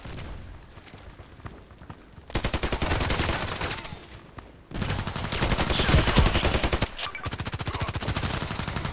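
Loud bursts of automatic gunfire in the online shooter game Contract Wars, rapid evenly spaced shots broken by short pauses, fairly close, with a quieter stretch of softer firing between bursts.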